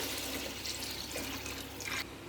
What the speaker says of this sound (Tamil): இப்போ நீங்கள் எந்த அளவுக்கு அரிசி போடுறீங்களோ அந்த அளவுக்கு ஏற்ற மாதிரி தண்ணி ஊற்றிக்கலாம்.